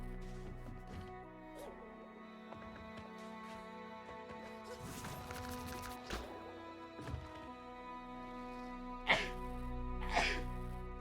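A person sneezes, short sharp bursts close to the microphone near the end, after a stretch of sustained, gentle musical tones playing quietly in the background.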